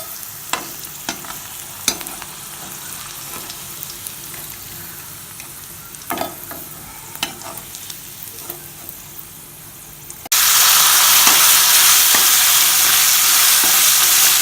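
Bitter gourd pieces deep-fry in oil with a soft bubbling sizzle punctuated by scattered sharp pops and taps, then the hiss jumps abruptly much louder and denser for the final few seconds.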